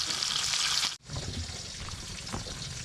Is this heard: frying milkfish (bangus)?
yes